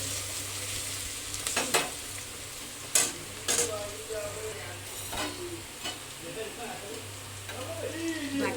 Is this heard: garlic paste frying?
yes